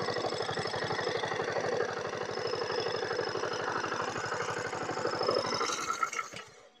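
Small engine runs steadily at close range with a fast, even knocking pulse, loud and continuous for several seconds before cutting out abruptly near the end, no talking.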